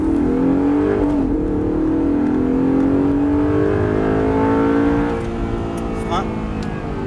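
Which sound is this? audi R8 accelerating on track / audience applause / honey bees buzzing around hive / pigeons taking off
audi R8 accelerating on track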